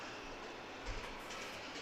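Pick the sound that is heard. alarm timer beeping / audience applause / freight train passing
freight train passing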